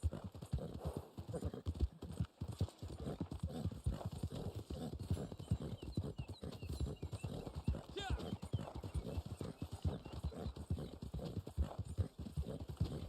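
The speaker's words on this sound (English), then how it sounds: "Yeah, my horse is hungry. Feed the horse too." Horse hooves clip-clop steadily throughout in the video game Red Dead Online, with a brief whinny partway through, all running under ongoing conversation between players.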